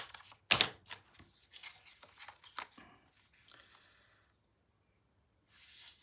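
Quiet scissors snip a sticker element off a crafting sticker sheet, with a sharp cutting click followed by a few light paper rustles and soft snips, then near silence.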